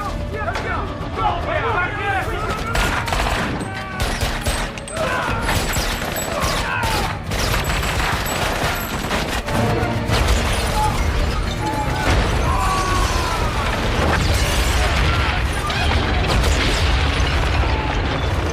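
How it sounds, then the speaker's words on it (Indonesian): Gunfire shootout from the TV series The Last Ship, with bursts of shots and booms over a dense, busy mix of action noise and voices, loud and sustained. "Setelah baku tembak dimenangkan oleh Tom dan kawan-kawan, mereka pun bergegas berangkat."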